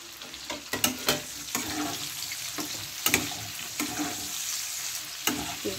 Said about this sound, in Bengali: এবার ক্যাপসিকামগুলো দিয়ে দিচ্ছি। একদম হালকা ভাজবো সব।